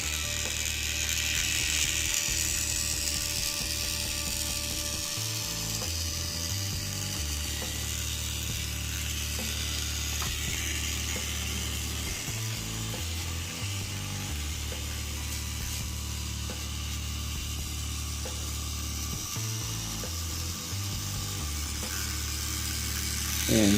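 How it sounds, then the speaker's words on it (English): A Tomy Trackmaster Thomas & Friends motorized toy train runs with a steady mechanical whir and rapid ratcheting gear clatter, continuous and close throughout, with no talking. "His motor is definitely not the fastest, but it runs"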